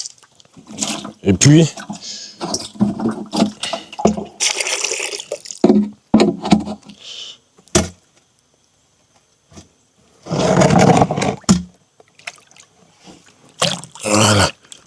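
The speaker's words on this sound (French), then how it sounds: "Videz d'abord l'eau de l'arrosoir." Water is poured out of a watering can in a couple of short splashing bursts, set between stretches of French speech.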